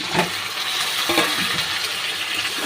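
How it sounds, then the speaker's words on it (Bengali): Chicken pieces fry in a pan over lightly browned onions, a steady close sizzle with soft stirring scrapes and clinks running throughout. "ভালো করে একটু ভেজে নেব।"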